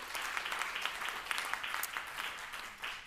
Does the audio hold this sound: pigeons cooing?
no